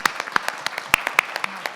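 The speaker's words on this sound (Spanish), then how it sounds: "Un aplauso pues, para los líderes de cada uno de los grupos." A small audience at a Latin American working-group meeting claps for group leaders: a brief, loose spatter of individual handclaps, close and fairly crisp, without voices.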